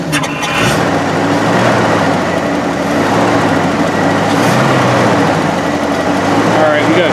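A barn-find 1965 Chevy truck engine runs steadily on the last fuel left in the carburetor bowl, a loud continuous mechanical drone that holds even throughout, close by.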